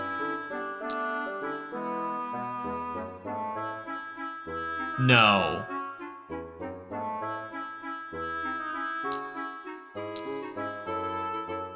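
A bright, high-pitched bell jingle from the Xenogears game, a few clear rings scattered over soft melodic background music, with one sharp tinkling flourish in the middle and a brief spoken word.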